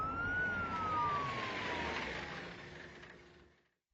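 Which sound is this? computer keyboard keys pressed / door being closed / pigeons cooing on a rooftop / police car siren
police car siren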